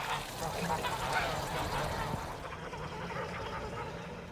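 Geese honk on a German farm, a cluster of noisy calls over outdoor background that thins out toward the end.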